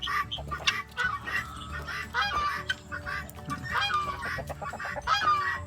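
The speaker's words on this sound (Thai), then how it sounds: "พวกห่านอยู่ฝั่งนู้นครับ" Several geese on a farm honk repeatedly at close range, loud overlapping calls mixed with some clucking fowl, no speech.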